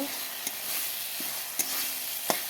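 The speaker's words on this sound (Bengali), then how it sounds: "মশলাটা ভেজে নেই, তারপর আবার ফিরে আসব।" Spice paste fries quietly in a pan, a soft continuous sizzle broken by a few sharp clicks of a utensil scraping and stirring.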